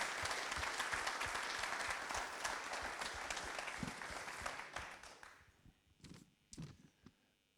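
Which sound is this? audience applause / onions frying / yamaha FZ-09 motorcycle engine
audience applause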